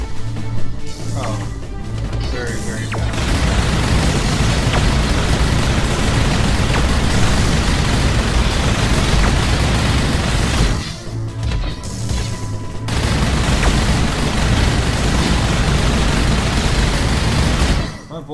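Gunfire in the video game Alien 911 Prologue, with long stretches of dense, loud crashing shots and impacts that break off twice into brief pauses.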